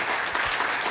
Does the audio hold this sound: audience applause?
yes